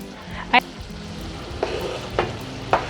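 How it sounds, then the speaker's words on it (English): Chopped onions going into nearly dry frying meat, a continuous sizzle with several sharp bursts as pieces drop in, and a few faint knocks in the background. "my meat is almost dry, and I'm going to add directly my chopped onions"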